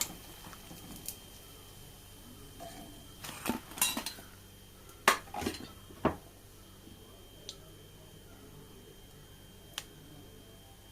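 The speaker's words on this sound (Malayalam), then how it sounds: "ഇനി നമുക്കിത് കോരി മാറ്റാം. ഇതേപോലെ ബാക്കിയുള്ളത് മുഴുവനായിട്ടും ഫ്രൈ ചെയ്തെടുക്കാം." An iftar snack is fried in a pan and scooped out, heard as sparse metal clinks and scrapes of a utensil against the pan over a faint steady background hiss, with long quiet gaps.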